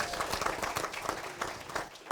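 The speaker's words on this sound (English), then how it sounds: "let's give her one more round of applause" Audience at a political rally panel applauding, a steady wash of many hands clapping at moderate distance, sustained throughout without a break.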